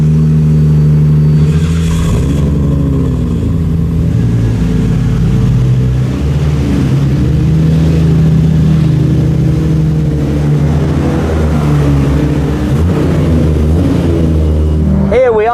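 Paul Walker's Nissan R34 GT-R, S-Tune version, rumbles loudly and steadily at idle with a deep, continuous engine note that barely changes.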